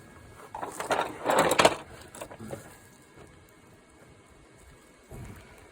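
A landscape rake being tack welded gives off short bursts of crackling, sizzling sputter, clustered in the first couple of seconds. Quieter background follows, with one faint crackle near the end.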